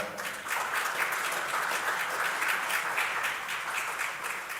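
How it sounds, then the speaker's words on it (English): Sustained audience applause from a conference crowd as a speaker walks to the lectern at a Nigerian programme launch, dense and steady throughout, building quickly at the start and easing slightly at the end, with no talking over it. "Keep clapping until she gets to the lectern, I beg of you."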